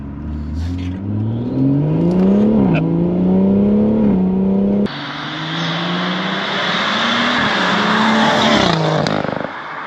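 A modified BMW M140i accelerates hard, its engine note climbing loudly through the revs with a gear change midway, then continuing to rise with roaring intake and exhaust, close and dominant throughout.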